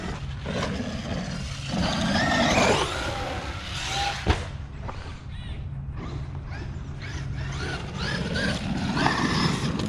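A Traxxas E-Revo 2.0 RC truck drives around with a whining electric motor that rises and falls, plus creaks and a sharp knock midway, close and fairly loud.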